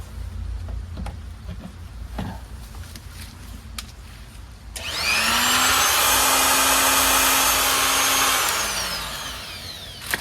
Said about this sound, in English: It's a small angle grinder.